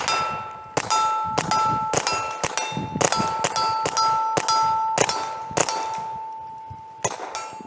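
Rapid .22 rounds from a Taurus TX22 Gen 2 pistol with a forced-reset trigger strike a steel target at 50 yards, sounding as about a dozen sharp gunshots. Each is followed by a ringing metallic ding that lingers between shots.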